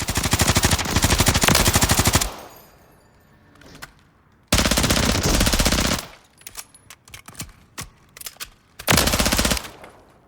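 A belt-fed machine gun with a 200-round belt, bipod-mounted, firing in Call of Duty Modern Warfare III on Rebirth Island: three loud sustained bursts of rapid automatic fire separated by short pauses with scattered clinks and shots.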